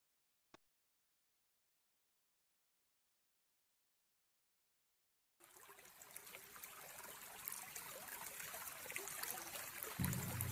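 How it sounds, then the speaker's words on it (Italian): Water trickles and flows steadily outdoors among greenery, rising suddenly from silence after a single brief tick and continuing as a constant close babble with no voices. "Il suono dell'acqua che svanisce nel verde della natura"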